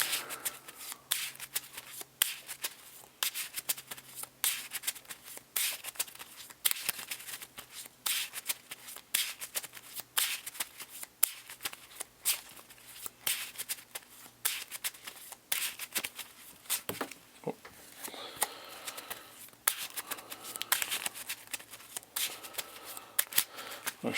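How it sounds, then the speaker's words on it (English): Close, rapid riffling and snapping of a deck of playing cards shuffled by hand during a Marvel Champions card game, with bursts of crisp ruffles repeating for over twenty seconds. "Shuffle up good."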